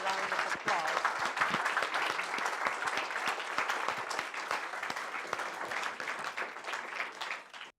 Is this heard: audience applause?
yes